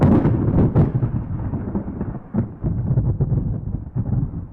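Loud, deep AI-generated thunder rumbling continuously and close, with rolling swells and a few sharper cracks, no voices.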